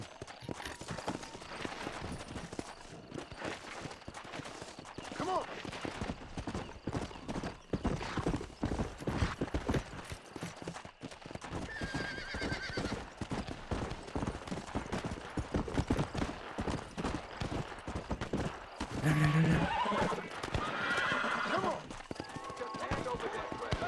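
Horse hooves clip-clop steadily through a Red Dead Redemption game scene, a brief whinny rising near the end, with gunfire scattered around and someone talking over much of it.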